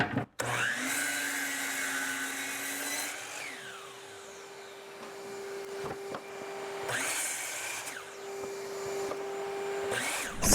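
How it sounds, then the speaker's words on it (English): A miter saw cutting a scrap wood board, part of a DIY pumpkin project, running as a steady loud whine with its blade spinning, then dropping off and revving up again in bursts toward the end. "I'm going to turn the miter saw to 45 degrees and just kind of put some angles on there"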